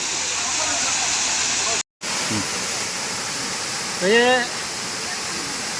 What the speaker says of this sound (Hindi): खूबसूरत झरना।